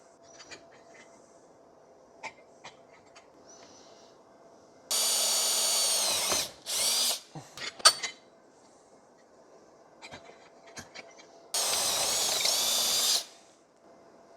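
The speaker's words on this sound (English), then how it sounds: "And now we have both beams with drilled holes for the slat supports" A drill bores holes through steel beams for a plasma cutting table. Two long, loud, steady drilling runs sound up close, with short stuttering bursts and light metallic clinks and tapping in the quieter gaps.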